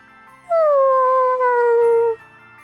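A dog howls in Bravely Default 2, one long drawn-out tone that slides gently downward, loud and close over quiet game background, lasting about a second and a half.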